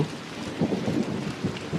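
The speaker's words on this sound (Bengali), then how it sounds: "হঠাৎ ছোট ছোট ফুটোয় বৃষ্টি পড়তে লাগলো" A cartoon storm effect: steady rain patter with low rolling thunder rumbles pulsing beneath it, brief and moderately loud.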